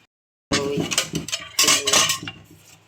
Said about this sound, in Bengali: এখন আমার কাজ হচ্ছে বেসিংয়ে থালা বাসন আছে বাসি ওগুলো ধুয়ে নিয়ে ওগুলো ধুবো